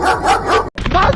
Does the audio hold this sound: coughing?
no